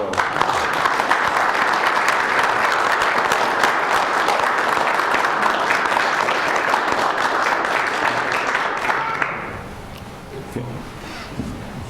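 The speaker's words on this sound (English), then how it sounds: "I think we should give them a round of applause." Audience applause fills a city council meeting room, a steady dense clapping from many people that holds loud and even for about nine seconds before dropping away abruptly into quieter room noise.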